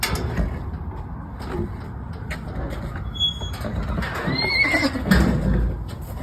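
A horse whinnies loudly among hoof clops and handling noise in a stable setting, with faint background voices.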